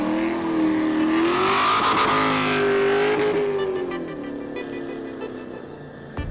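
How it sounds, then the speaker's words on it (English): Mazda RX-7 engine revving hard during a car-versus-motorcycle drift battle, a loud rising and falling rotary wail that peaks near the middle and eases off toward the end, with a hint of tire noise. "what it's going to take to get myself run over by a absurdly obnoxious RX-7"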